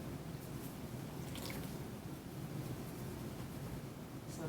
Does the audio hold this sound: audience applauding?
no